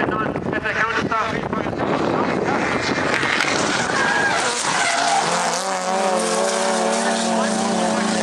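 A race car circles a circuit, its engine howling and tyres skidding as it unsettles over a curve, loud and close throughout before settling into a steady pitched drone, with a commentator talking underneath.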